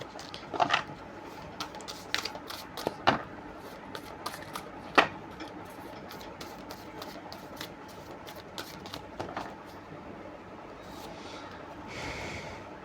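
Tarot cards shuffled from a deck, a run of crisp riffling and slapping bursts with a few louder snaps, fairly close, with no talk over it.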